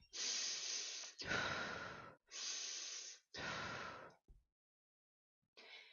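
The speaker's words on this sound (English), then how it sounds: "Start breathing." Slow, deliberate breathing in a calming exercise for fight, flight or freeze: four long, close, airy inhales and exhales in steady alternation, then a pause of silence before another breath begins.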